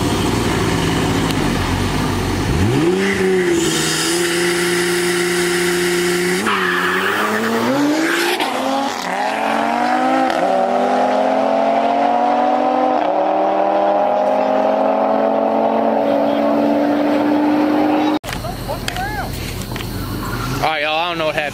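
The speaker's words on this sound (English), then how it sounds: "GTR versus a RS3." A Nissan GTR and an Audi RS3 launch in a drag race, with engines rising through the gears and tires squealing and skidding loudly over continuous crowd chatter. The clip ends with a brief cut to other noise.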